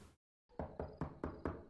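Five firm knocks on a wooden door in a TV drama, evenly spaced and close, following a moment of silence.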